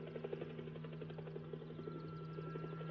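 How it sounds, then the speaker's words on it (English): A helicopter is heard from far off as faint, rapid rotor thumping over a low steady engine drone, continuous and quiet with no voices. "Helicopter."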